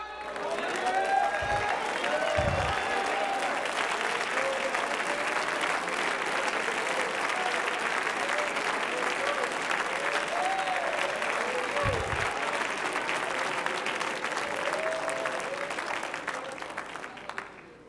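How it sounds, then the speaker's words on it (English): A church congregation on its feet claps and shouts in worship, a long, full wall of applause with scattered cries and voices rising through it, steady for about eighteen seconds before easing off at the end. "let's stand to our feet and clap our hands and shout unto God."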